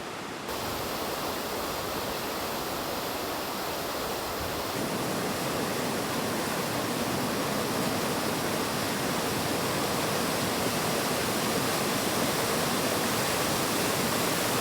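A mountain waterfall in Western Canada roars as a dense, steady rush of falling water, loud and unbroken for the whole stretch, with no voices.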